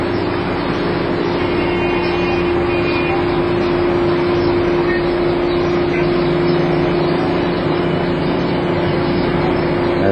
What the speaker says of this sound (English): Hear the traffic in the street.